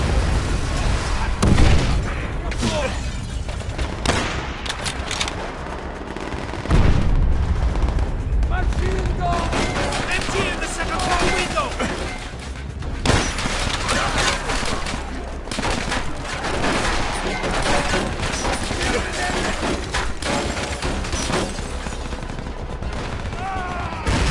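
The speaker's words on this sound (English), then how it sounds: "Give covering fire to our comrades below!" Gunfire and explosions in the World War II shooter Call of Duty: World at War, with loud rapid rifle and machine-gun bursts and heavy booms layered densely throughout, and shouted voices mixed into the battle.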